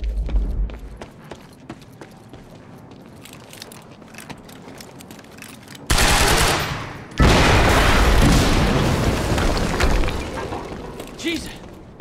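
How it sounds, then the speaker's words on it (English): Quiet ambience in Quantum Break gives way to a sudden loud blast, followed by sustained roaring bursts of gunfire and explosions that gradually taper off. "HQ, we just heard an explosion near the harvesting perimeter."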